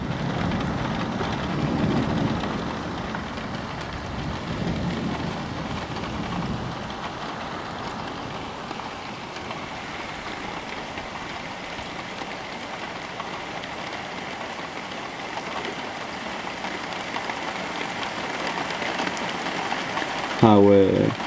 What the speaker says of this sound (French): Il pleut énormément.